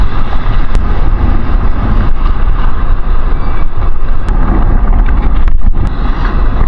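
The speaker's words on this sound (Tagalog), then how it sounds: "kahit malakas yung hangin" Strong wind roars steadily across the microphone during outdoor fishing, a loud continuous buffeting rumble with no speech.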